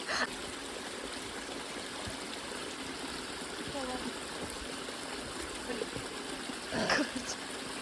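Running water from a tap while hands are washed, a steady close hiss of flow with small splashes, during a mountain hike in South Korea.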